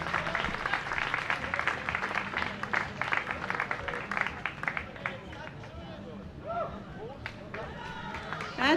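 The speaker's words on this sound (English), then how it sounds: "How about a nice round of applause?" Audience applause at a virtual German-American Steuben Parade rolls in a dense burst of clapping with crowd babble, gradually thinning and fading toward the end.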